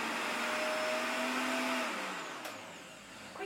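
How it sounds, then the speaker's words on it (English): An Optimum 9900 blender runs briefly with water inside to rinse the jar, a loud steady motor whine that winds down and fades toward the end, with no talking. "Once you've made your smoothie, it's really easy to wash the blender."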